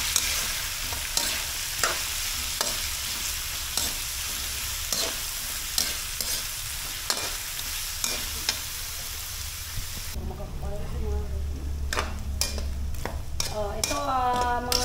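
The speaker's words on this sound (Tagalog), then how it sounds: "piniprito ko muna yung carrot sa patatas" Steady frying sizzle of carrots and potatoes in hot oil with scattered clinks of a utensil stirring, continuing for the whole stretch.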